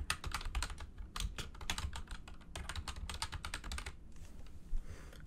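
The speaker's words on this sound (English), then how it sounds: "I'm really good at typing." Rapid, steady keystrokes on a computer keyboard, close and clear, in irregular bursts with brief pauses between groups of taps; no voices.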